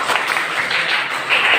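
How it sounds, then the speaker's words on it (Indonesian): A classroom of students claps together, a short, fairly loud patter of hands close by. "Tepuk tangan dong."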